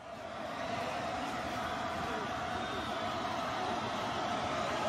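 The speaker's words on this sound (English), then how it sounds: "Crowd is going wild." A wrestling crowd at a Money in the Bank 2015 event roars in a steady, loud, dense wall of cheering that holds for the whole stretch with no pauses.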